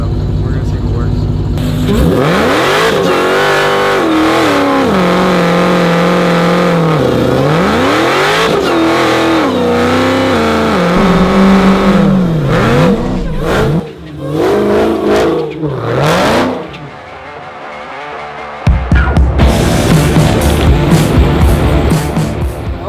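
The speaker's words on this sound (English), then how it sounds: "this is my second attempt at a burnout, so we're gonna see what works" An 1100 hp Dodge Challenger Hellcat Redeye doing a burnout, loud and close: the engine revs up and down in repeated surges, cuts out briefly, then roars back in, with voices talking over it.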